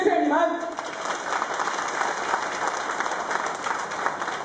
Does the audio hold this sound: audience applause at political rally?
yes